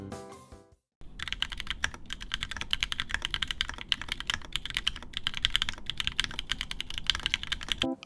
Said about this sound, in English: Probably due mostly to the thin keycaps I'm using, it has a clacky sound